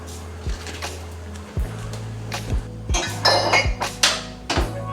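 A dirty spoon clinks sharply against dishes several times, a run of bright metallic taps over a steady low hum, close by with no talking.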